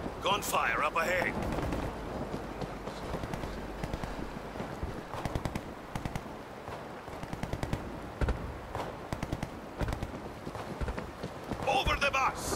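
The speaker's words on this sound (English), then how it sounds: "Gunfire up ahead." Gunfire in the World War Z video game on a Rome level, with dense rapid cracks and bursts running throughout at steady loudness, mixed with game noise and a player talking over it.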